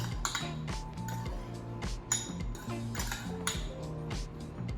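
Utensil clinking and scraping against a bowl while blueberries are tossed with sugar, a steady series of small metallic taps and clinks in a quiet kitchen with no one talking.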